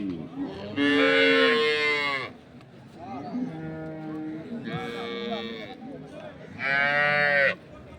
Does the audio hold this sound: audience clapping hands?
no